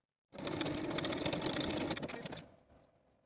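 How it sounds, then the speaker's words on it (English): A sewing machine edge stitches the facing of a velvet dress, running steadily and close for about two seconds, then stopping with a fading whir. "Then just edge stitch that in place for a nice clean finish on the inside."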